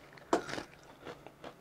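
A bite into crispy fried chicken breast with crumbly soboro-style coating gives one sharp close crunch, followed by softer chewing crackles.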